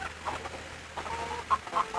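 Chickens on a mixed farm that doubles as a café and visitor spot cluck softly in short, scattered calls over a low, steady outdoor background, with no one talking.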